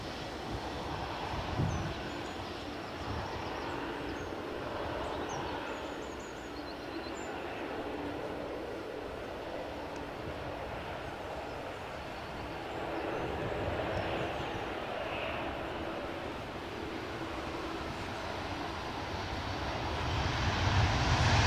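A British Airways Airbus A320-200 arriving at Edinburgh Airport from Heathrow, a steady, fairly distant jet roar that holds even and swells slightly near the end, with no talking.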